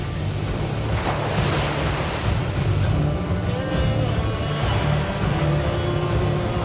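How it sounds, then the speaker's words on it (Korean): Rough ocean waves crashing off the South Indian coast at Kovalam, a continuous loud roar of surf with heavy wind noise on the microphone. "평상시와 달리 파도가 거세 위험한 상황"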